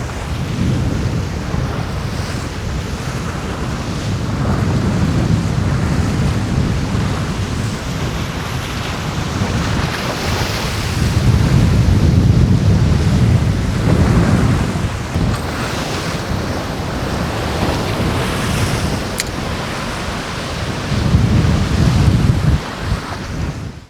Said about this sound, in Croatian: Ojme, ali ga puše.